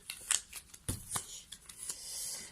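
An oracle card drawn from a deck, with a few soft papery flicks and slides close by, quiet and brief, with no voice.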